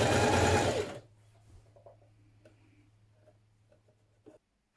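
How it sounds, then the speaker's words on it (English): Sewing machine stitching a double fold hem on a midi dress, one loud close whir lasting about a second, then stopping and leaving a low hum. "I'm going to do a double fold hem."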